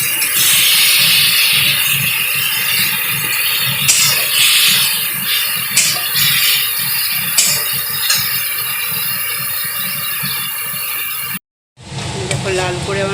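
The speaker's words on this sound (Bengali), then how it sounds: "লাল করে ভেজে নিতে হবে।" Spices and ginger paste fry in oil over raised gas heat, a loud, steady hissing sizzle that runs close and continuous before cutting out briefly, then resumes.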